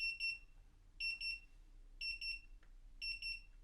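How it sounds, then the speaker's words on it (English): A high-pitched electronic alarm from a Eufy Smart Safe S10 left open beeps in quick bursts of three, repeating once every second, loud and close with a faint hum beneath. "if the box is left open, an alarm will sound"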